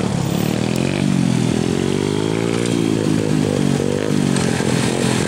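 Small motorcycle engine running loud and close, a steady buzzing drone with the pitch rising and wavering slightly throughout, no voices over it.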